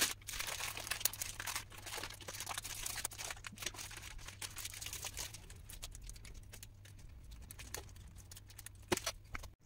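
A plastic bag holding live shrimp in water is handled and packed for shipping, giving steady close crinkling and rustling of plastic with scattered small taps and clicks throughout, over a low background hum.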